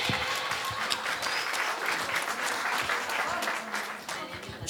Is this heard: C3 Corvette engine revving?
no